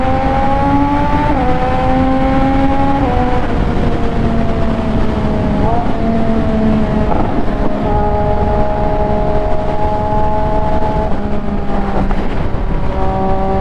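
An MV Agusta motorcycle rides through a short tunnel, its engine note rising and stepping through gear shifts with steady wind rush, close and loud, while a rider talks over it.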